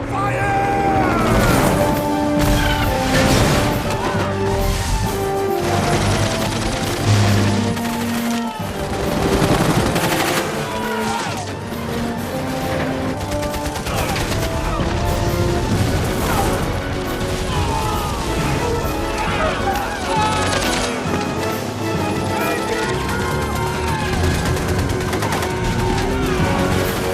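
Battle gunfire in an apocalyptic war film, a dense, loud continuous barrage of machine-gun fire, shots and crashes with mechanical clatter, layered under shouting voices and dramatic score.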